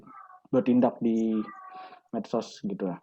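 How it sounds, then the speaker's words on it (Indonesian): A pet cat meows a few times, short close mews interleaved with ongoing indoor conversation in a podcast setting. "Itu kucing gua"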